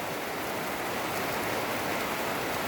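Heavy storm rain that has been pouring since morning, falling around a rural home: a steady, dense broadband hiss of countless drops that stays constant and fairly close throughout, with no voices or other sounds.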